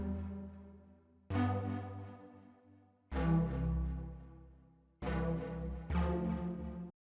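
Deep house synth patch from a sample pack, playing four separate rich chord stabs that swell and slowly decay, with gaps between them. It is fairly quiet and has no talking.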